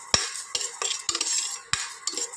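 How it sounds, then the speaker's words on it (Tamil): Rice dry-roasting in a pan while a spoon stirs it, producing repeated rhythmic scrapes and dry rattling grains, close and clear with no talk. "அதையும் இதே போல் நல்லா செவக்க வறுத்து எடுத்துடலாம்"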